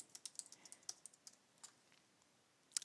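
Rapid typing on a computer keyboard, a quick run of light, crisp key clicks that slows and thins out before a final small burst, quiet and close with no speech.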